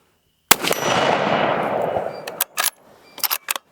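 A single loud, close rifle shot from a Ruger American 6.5 Creedmoor in an Ultradyne UD chassis, its sharp crack trailing into a long rolling echo across open ground, followed by a few sharp metallic clicks.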